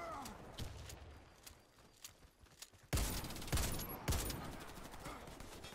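Gunfire in the video game Warface on Nintendo Switch: scattered faint shots early on, then several loud, sharp bursts close by in the later half over game ambience.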